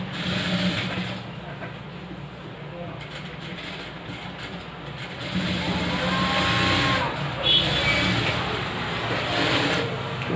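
A sewing machine stitches an embroidered blouse, joining the front and back panels, with a steady, continuous mechanical whir running the whole time and swelling slightly louder toward the end.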